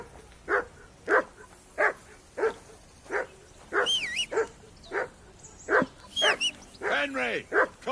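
A dog named Mutt barks repeatedly in Kingdom Come: Deliverance 2, sharp regular woofs about every half second, close and clear, with whining yelps mixed in toward the end.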